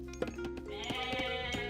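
Game goats in Age of Mythology give a drawn-out, quavering bleat that rises after a few short clicks and stays loud and near over a steady background, with soft interface ticks scattered through it.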